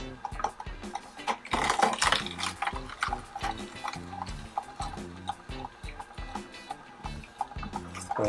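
A Hurom Elite HH-SBB11 or Slowstar SW-2000 slow juicer grinds beets with a rapid, irregular ratcheting clatter of cracking and crunching, close and continuous with a louder flurry early on.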